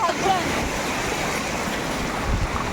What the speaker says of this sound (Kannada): ಅಲೆಗಳ ಶಬ್ದ